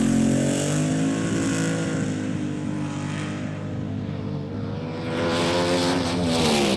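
A rear-engine dragster's loud, sustained engine roar with rich droning harmonics, swelling and fading slightly as the powerful motor runs close by.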